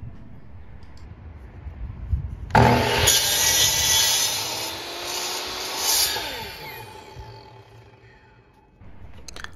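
A power tool cuts a wood piece being trimmed for a homemade minivan TV mount, starting abruptly with a loud, bright whine and rasp that wavers and fades out after about six seconds, close by.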